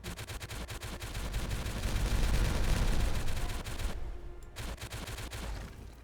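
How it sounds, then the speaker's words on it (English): Explosives detonate in the game Timberborn as a rapid crackling barrage of blasts, swelling loud in the middle and then tapering off in scattered bursts. "Detonate!"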